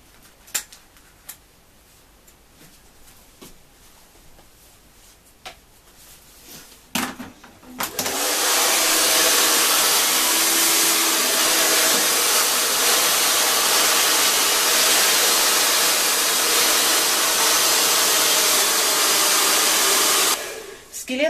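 Long hair being dried with a hair dryer: soft handling noises and light taps first, then the dryer switches on with a loud, steady whooshing roar that holds for about twelve seconds before cutting off.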